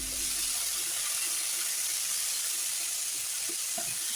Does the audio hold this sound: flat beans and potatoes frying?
yes